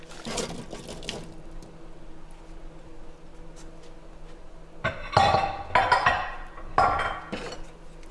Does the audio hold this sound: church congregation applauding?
no